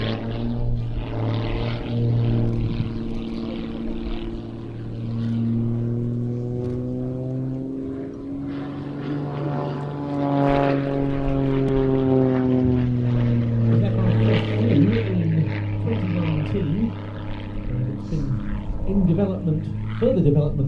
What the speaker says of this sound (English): Display aerobatic flying to this day, really showing us something of the speed of this modified S2S